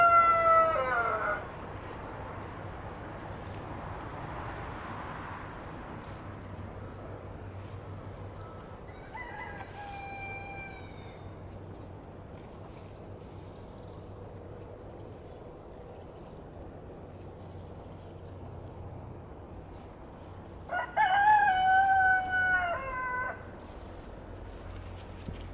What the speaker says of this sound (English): Can you hear the cockerel?